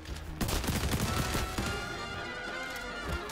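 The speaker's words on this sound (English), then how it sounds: "We're getting shot." Rapid gunfire in the shooter game XDefiant, a dense barrage of overlapping shots that starts abruptly and keeps up loudly throughout, close and heavy with continuous combat noise.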